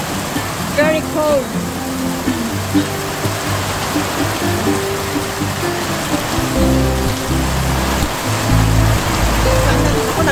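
Heavy rain falls steadily on an Australian backyard garden, a dense, continuous wash of water that rises louder toward the end, with a voice speaking briefly over it.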